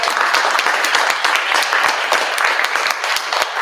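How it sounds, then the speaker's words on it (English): An audience gives loud, sustained applause for monologue competition performers, a dense, steady patter of many hands clapping close by without a break. "I want to just give a big round of applause to all of you"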